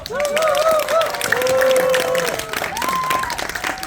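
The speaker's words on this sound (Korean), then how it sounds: "자, 박수 한번 쳐주세요" Talk-show audience at Nampa Gotaek claps steadily for several seconds, with raised voices and cheering riding over the applause.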